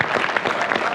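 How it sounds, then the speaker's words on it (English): Brief burst of audience applause at a contractor summit, dense clapping throughout the single second with no voices. "Let's do a round of applause for that."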